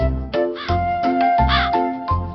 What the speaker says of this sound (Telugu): ఒక కాకి చాలా దాహంగా ఎగురుతూ నీళ్లు వెతుకుతూ ఉండేది